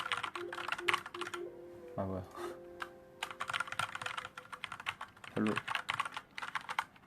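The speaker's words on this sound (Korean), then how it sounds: "아까 뭐 타자 치는 소리가 좋다고 하셨는데 타자 치는 건 뭐" Computer keyboard typing comes in quick bursts of close, crisp clicks, broken by pauses, while people talk over and between the keystrokes.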